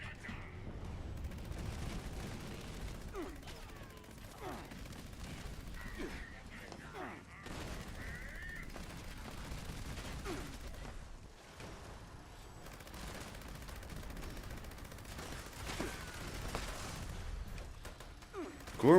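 Gourmand's SMG firing in Fallout 76, repeated bursts of rapid gunfire spread across the clip with pauses between volleys, fairly faint and mixed with other game noise and voices.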